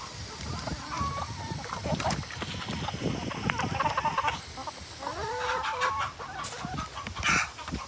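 Chickens cluck and squawk close by in a busy, continuous stream, with some background noise and a bit of voice mixed in.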